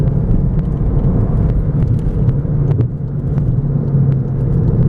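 A 2015 Volkswagen GTI on the road, heard from inside the cabin as a steady, loud engine and road rumble under way, with no talking over it.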